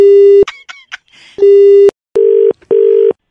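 Loud, steady telephone busy tone after a call is hung up, in repeated bursts, broken by a few short electronic blips and a faint rustle.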